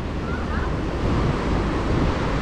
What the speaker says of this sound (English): To watch the ocean at this time.